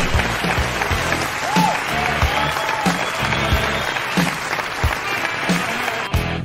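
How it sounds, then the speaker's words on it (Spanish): Steady applause from a crowd fills the whole stretch, dense and even, with a faint tonal sweep and some murmuring mixed in. "Un aplauso para todos ustedes"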